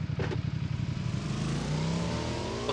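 A motorcycle engine in PUBG Mobile revs close and loud, its pitch climbing as the bike accelerates over a few seconds.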